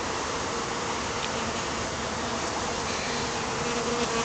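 Steady, dense buzzing of many bees, loud and continuous throughout, like standing right beside a busy hive.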